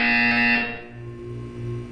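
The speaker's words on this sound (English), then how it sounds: "You will hear a buzzer. When you hear the buzzer, look up at the ceiling." A loud electronic buzzer from the video game Portal 2 sounds as a steady tone for about half a second, then cuts off, leaving a low hum underneath.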